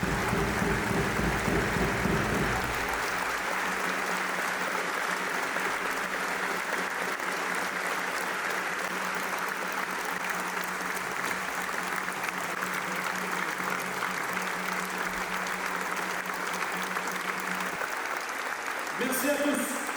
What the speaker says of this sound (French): Pour honorer sa mémoire, nous vous demandons maintenant une minute d'applaudissements.